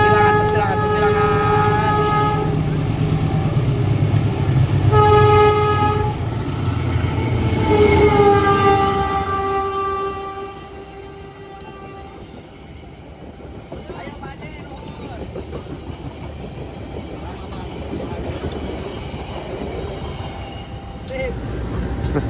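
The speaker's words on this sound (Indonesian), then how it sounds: "Resmi bersilang kereta api Serayu." A Serayu train crosses near Ciawi station, its horn sounding in long tonal blasts while the train rumbles close by, then the rumble fades into a quieter clatter of rails and wind buffeting.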